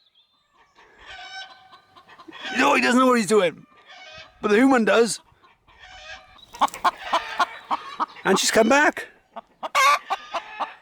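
Chickens cluck and squawk loudly in agitated bursts after a dog is moved in to scare them while camping in Llangammarch Wells, with people talking over the commotion.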